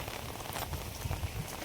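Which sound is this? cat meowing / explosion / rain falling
rain falling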